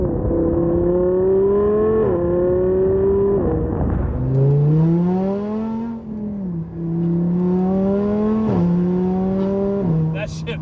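A supercharged Audi R8 sports car accelerates hard from inside, its engine tone climbing through the revs, dipping at each quick gear shift and climbing again several times.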